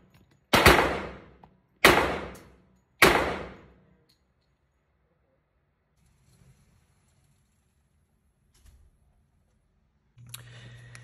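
Colt 1911 pistol fired at a shooting range: three loud, sharp shots spaced about a second apart, each with a short decaying echo, then near silence and faint handling noise.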